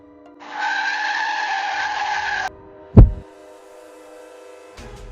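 Vehicle skids with a sustained high tire screech lasting about two seconds, then a single sharp thud of impact, followed by quiet and a faint later rustle; no voices.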